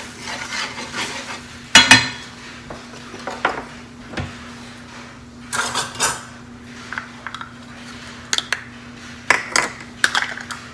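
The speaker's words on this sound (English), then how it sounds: "we're just going to whisk that together. Make like a little roux" A whisk stirs flour into a roux in a pan, giving intermittent metallic scrapes and clinks against the pan, with short bursts separated by quieter pauses.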